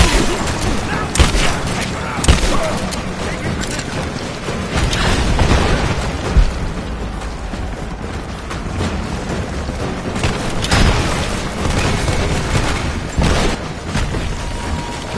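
Gunfire and explosions in the Rise of the Tomb Raider video game, with dense, continuous loud booms, bursts and rattling shots throughout, a hectic combat mix with no clear pauses.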